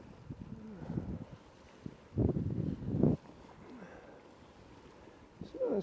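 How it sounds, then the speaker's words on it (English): Wind blows outdoors at a paragliding site, rumbling against the microphone with a couple of stronger gusts in the middle, while a person talks intermittently. "there's a bit more wind just came in there actually"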